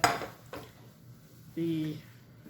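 A ceramic frying pan is handled in a home kitchen for cooking ribeye, with a sharp clank at the start, a softer knock and a brief ringing scrape, all close and fairly quiet.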